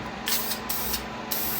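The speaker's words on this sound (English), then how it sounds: "I'm going to test the clear coat out first by spraying it away" Aerosol clear coat spray can test-sprayed during a 2009 Honda CR-V headlight restoration, three short bursts of close, loud hiss.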